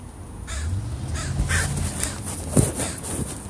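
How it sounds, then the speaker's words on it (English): Several crows caw loudly and repeatedly nearby, harsh calls overlapping and breaking in at irregular moments over a low background rumble. "The crows are here."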